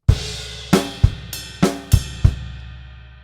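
Drum kit plays a groove, with steady accented hits struck in a regular pattern and a bright ringing ride bell over punchy low kick strokes, played alone and close.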